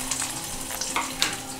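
Curry leaves and garlic frying in hot oil in a wok, a close, brief burst of crackling sizzle with sharp spitting pops.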